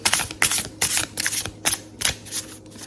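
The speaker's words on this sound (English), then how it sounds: "Good hard shuffle." A deck of cards is riffle-shuffled hard several times in quick bursts, each a crisp rapid flutter close up, with short pauses between.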